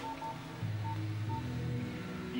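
A mobile phone keypad gives a quick run of short electronic tone beeps, close and clear, with no talking.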